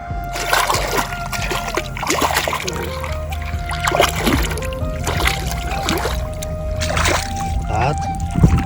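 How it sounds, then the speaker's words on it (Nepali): Hands and feet being washed in water outdoors after a meal, with splashing and sloshing bursts and trickles continuing throughout as someone talks over them. "अब हात धुनु पऱ्यो एकछिन पानीमा है पानी हात पनि धुनु पऱ्यो खुट्टा पनि धुनु पऱ्यो यस पानीमा"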